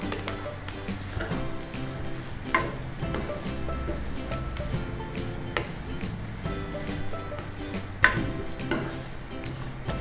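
Vermicelli and dry fruits roasting and being stirred in a pan for sheer khurma, giving a steady soft sizzle with scraping stir sounds and occasional clinks, fairly quiet throughout.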